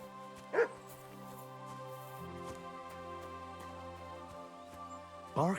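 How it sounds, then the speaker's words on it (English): A dog in Kingdom Come: Deliverance II barks a couple of sharp, fairly distant times, one early and one at the end, over a sustained tonal game music backdrop. "barking."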